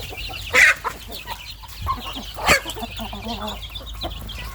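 Thai native chickens cluck nearby, with a couple of sharper squawks standing out over a busy background of ongoing clucking and farmyard noise.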